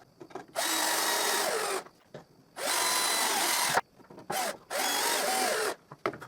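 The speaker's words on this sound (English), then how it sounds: "And I drive another 2 screws." A power drill drives screws into a wooden strip in three sustained bursts of about one to one and a half seconds each, with short pauses and small clicks between them. The drill is close and loud, and no one speaks.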